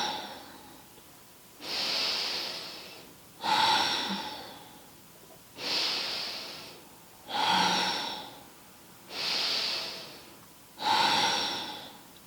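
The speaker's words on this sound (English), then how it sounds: "let the belly expand as we breathe in and tighten and pull back away from the hand as we breathe out" Slow, deep belly breaths during chair yoga, six long airy inhales and exhales alternating at a steady, unhurried pace, close and fairly soft with no talking.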